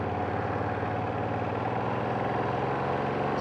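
A 2025 Ducati Streetfighter V2s motorcycle engine running with a steady, even mid-pitched drone, close and moderately loud, holding constant throughout with no one talking.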